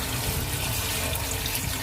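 Water pours steadily into a pot of haleem, a full continuous splashing stream, close and loud, with no voices over it.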